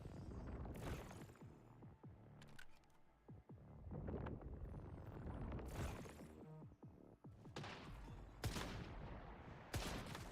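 Repeated gunfire in the survival shooter Once Human, with sharp shots and bursts recurring across the scene over a throbbing low rumble, loud and close.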